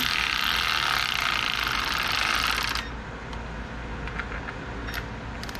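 A Milwaukee power tool drives bolts into a 6.7 Cummins fuel pump housing, a close, loud whirring burst for about three seconds, then a quieter mechanical hum with a few faint clicks.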